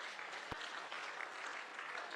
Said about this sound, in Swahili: Simpigie makofi hii committee.